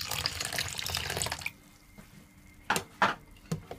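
A bit of water is poured into a sweet and sour sauce made with ketchup, sugar and soy sauce, a short running stream lasting over a second, followed by a few scattered clinks and knocks nearby.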